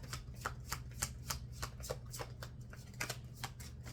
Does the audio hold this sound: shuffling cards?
yes